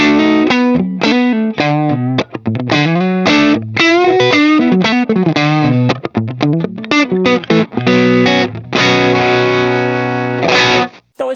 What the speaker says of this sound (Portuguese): Então esse é o som de overdrive do pedal